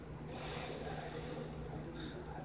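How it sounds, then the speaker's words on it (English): One muffled cough comes through a face mask in a garden. It is a close, breathy burst lasting just over a second, followed by a fainter breath. "And then just cough away."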